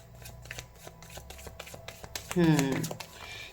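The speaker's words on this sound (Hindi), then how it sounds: "पहले कार्ड्स निकाल लेती हूँ उसके बाद आप लोगों को बताती हूँ" Tarot cards are drawn and shuffled in a run of soft, quick flicks and rustles close by, while someone talks over the cards in a brief burst toward the end.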